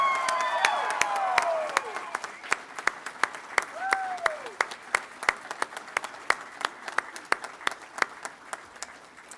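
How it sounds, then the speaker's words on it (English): A crowd at a practical nursing graduation ceremony applauds, the sustained clapping fading down to scattered sharp claps, with some cheering at the start. "Let's give them a round of applause."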